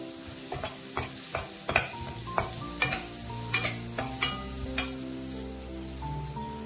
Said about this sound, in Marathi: ह्याच तेलामध्ये आता आपण कांदा फ्राय करून घेऊया